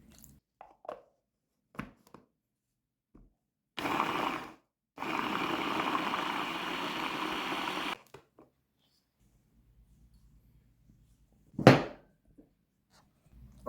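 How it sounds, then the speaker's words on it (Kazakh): A blender purees chopped apples with water, two short bursts of loud whirring, one brief and one lasting about three seconds, set among scattered kitchen knocks and clunks. "Үстіне су құйып блендермен езіп аламыз."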